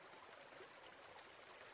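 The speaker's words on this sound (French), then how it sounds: "le ruisseau derrière nous" A stream trickles steadily behind a sophrology relaxation session in nature, a continuous soft broadband burble of running water, faint and distant, with no voices.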